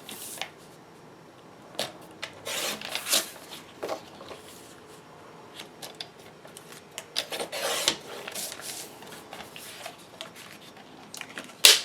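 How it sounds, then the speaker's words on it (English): Patterned cardstock is trimmed with a paper trimmer: soft scraping and sliding strokes alternate with irregular rubs and small taps, fairly quiet and close, with no talking. "And then I will then trim it down to"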